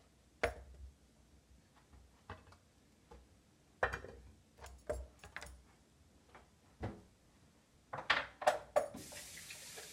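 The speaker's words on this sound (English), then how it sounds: "Wash my hands." Hands being washed under a running kitchen tap while a salad is being prepared, with water splashing in irregular bursts and a few clunks and knocks near the sink.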